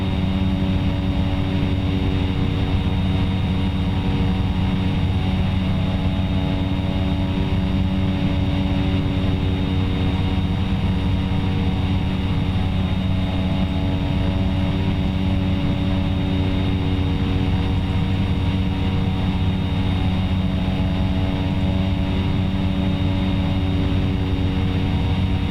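Steady, loud engine and propeller drone of a Cessna 208 Caravan turboprop in the X-Plane 11 flight simulator, a constant humming roar with layered tones that holds unchanged throughout, with no voices.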